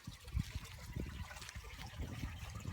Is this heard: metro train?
no